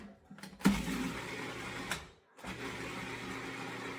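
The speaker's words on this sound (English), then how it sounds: "We put the lid on and we blend it." A blender whirs through cottage cheese seasoned with garlic and onion powder in a steady motorized drone, briefly dipping to near silence before restarting.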